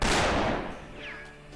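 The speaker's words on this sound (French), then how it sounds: "mes coups de fusil faisaient plein de bruit ici" Rifle gunshot in a video game: one loud, close crack that decays into a long rolling echo over about a second and a half.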